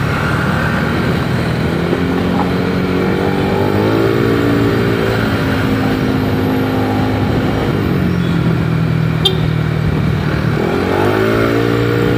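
A Yamaha Lexi 155cc scooter fitted with an aftermarket exhaust drones steadily while riding, its engine note rising and dipping with throttle changes, loud and close throughout with no voices.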